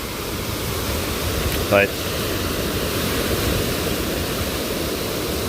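Strong wind and choppy lake water with whitecaps at Presque Isle beach make a steady, broad rushing roar, with one brief spoken word near the start.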